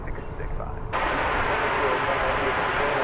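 An Airbus A321 airliner from San Diego lands at an airport, its engine roar rising abruptly into a loud, steady broadband rush that holds to the end, with a voice talking beneath it.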